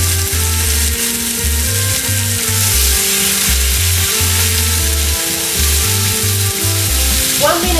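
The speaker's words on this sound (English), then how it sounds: "So we just put the steak." Steak sizzles loudly in a hot pan with a touch of oil, a steady dense crackle with rhythmic low thumps from handling throughout.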